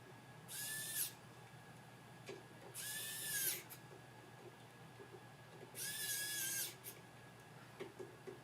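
A power screwdriver whirs in three short bursts, each about a second long with a slight pitch rise, separated by pauses, faint over a quiet room hum.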